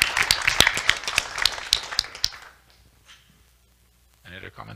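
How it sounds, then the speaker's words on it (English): Enthusiastic clapping and cheering from a crowd at a technical session for about two seconds, then it dies away into near silence before a brief noise at the end. "big round of applause"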